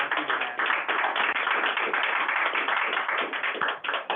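An audience applauds in a dense, steady wash of clapping that holds at an even level for several seconds, close and loud with no voices on top.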